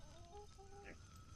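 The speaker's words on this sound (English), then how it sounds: "Nice chickens." Chickens in the Atlas survival game give a few short, soft clucks, faint and close together over a low background hum.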